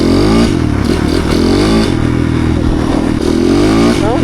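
An enduro motorcycle engine with a faulty, slipping clutch lining runs loud and close, its revving pitch rising and falling in wavering, whining sweeps that resemble a cat's meow, continuous throughout.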